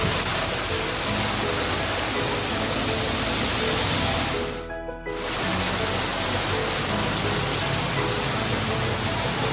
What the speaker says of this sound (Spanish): Llueve en Siloé, Cali, Colombia